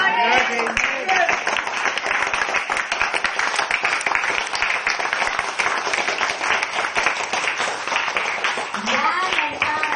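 A church congregation claps hands in praise, a dense and steady roar of applause that continues throughout, with voices heard briefly at the start and end.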